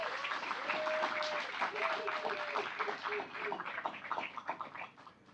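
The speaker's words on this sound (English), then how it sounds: "Give it a round of applause, please." Audience applause at a talk show event on U.S. soybeans, a full, steady round of clapping from a room of people, with a voice speaking over it before it thins out toward the end.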